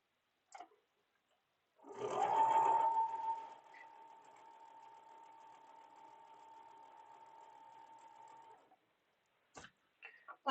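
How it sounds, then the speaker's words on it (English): A sewing machine stitches a quilt block at a quarter-inch seam, starting with a louder burst and then running as a steady, even whir for several seconds before stopping, with a few small handling clicks around it. "just lining them up so it's centered, and then sewing it back onto the blue"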